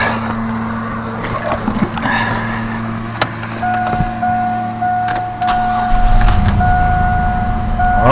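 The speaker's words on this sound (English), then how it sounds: "let's go around and see if she'll crank and" A 1999 Chevy S10 engine cranks and then catches, the low rumble swelling into a steady running idle near the end, with whining tones and light clatter throughout.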